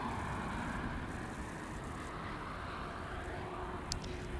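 Delta Airbus A319 airliner at LAX airport, heard as a steady, moderately distant broadband jet roar that holds level throughout with no talk over it.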